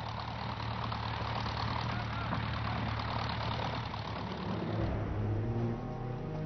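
A Westland Lysander short-takeoff-and-landing aircraft engine drones steadily in old, muffled wartime footage, with a rough, throbbing tone that shifts in pitch toward the end.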